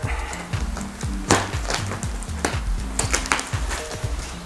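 A secondhand DEVIL 420 RC helicopter package is unboxed, with close crinkling, tearing and scraping of packaging in irregular bursts and a few sharp knocks, no talk.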